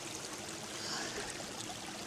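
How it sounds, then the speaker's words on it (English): A wild mountain stream flows and splashes over rocks on a hiking trail, a soft, steady babbling rush close by with no voices. "Water is so peaceful."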